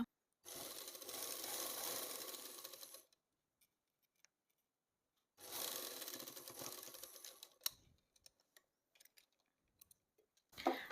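Sewing machine stitching a blouse sleeve runs in two steady bursts of about three seconds each, separated by silence, followed by faint scattered clicks and handling.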